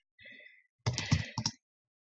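Computer keyboard typing during a Half-Life play session: a faint patter of keys, then a denser, louder burst of rapid clicks, and a final short tap after a pause.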